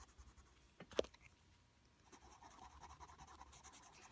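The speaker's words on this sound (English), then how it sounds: "When I color in with color pencils, I don't do scribble, scrabble, scribble, scrabble." Soft, faint scratching of a colored pencil shading across paper, with one sharper tap early on and a steady scraping rhythm afterward.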